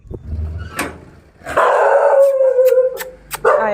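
A dog at a house howls in a long, drawn-out wail, with short sharp barks and yips before and after it, close and loud.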